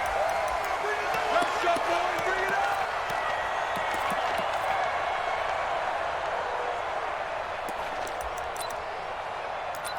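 Stadium crowd noise from a Madden 20 American football video game, Jaguars at Titans: a steady, dense roar of cheering fans that holds at one level throughout, with scattered claps and thumps poking through.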